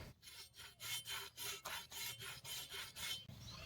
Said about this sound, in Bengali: এগুলো আমরা ঘষে পরিষ্কার করে নেব।